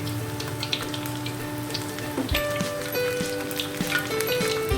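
Chicken balls with quail eggs frying in hot oil, a steady close crackle and sizzle with scattered pops, joined by background music.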